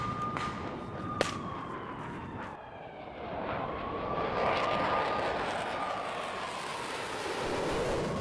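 Fighter jets fly during a NATO air-defence drill, Air Defender 2023. A distant, fairly faint roar slides in pitch as the aircraft passes, with a sharp crack early on.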